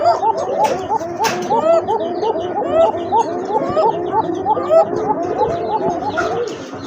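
Pigeons for sale, a cock and hen pair, cooing in repeated rolling phrases that overlap steadily throughout, close and fairly loud, with other birds chirping faintly in the background.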